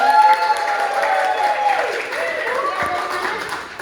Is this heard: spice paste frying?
no